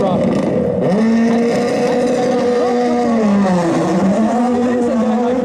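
Rally car driven by a current World Rally driver drifting at a Red Bull event on Spike Island, Ireland: a loud, close engine roaring steadily with rising and falling revs, a voice speaking over it.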